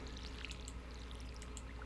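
Water pours steadily from a watering can onto garden plants, a continuous splashing stream with a faint trickle under low background hum, no talk.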